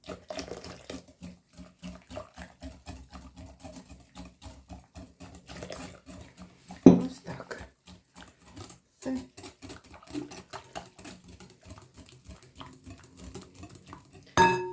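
Rapid, rhythmic clinking of a whisk or utensil beating pancake batter with hot water in a bowl, steady and close, with a couple of louder knocks.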